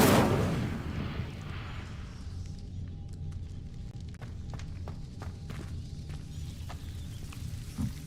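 In Hogwarts Legacy, the Incendio fire spell bursts out loudly in a hidden herbology corridor, then settles into a sustained crackling, rumbling roar dotted with small snaps for several seconds.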